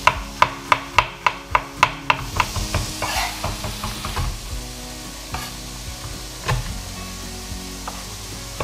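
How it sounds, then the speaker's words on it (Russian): A knife chops ginger on a cutting board with a quick, even run of sharp, close taps that then slow and soften into scattered, quieter knocks. "Мы измельчим имбирь и чеснок."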